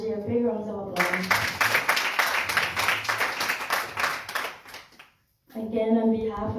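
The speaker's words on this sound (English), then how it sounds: "Please give our Valerie a big round of applause." A crowd at a Ganesha yajna ceremony breaks into loud, sustained applause for Valerie, many hands clapping densely for about four seconds. Someone speaks just before, and talking resumes after a brief pause.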